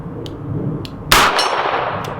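A .357 round from a Smith & Wesson 627 V-Comp revolver strikes a steel plate target with one sharp, bright metallic clang that rings on briefly, loud and clear over steady outdoor background noise.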